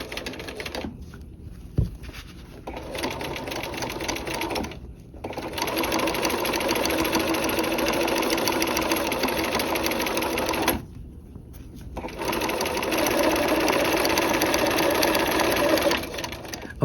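A sewing machine stitches a dual flap pocket, running in several long, rapid bursts separated by brief pauses, close and fairly loud.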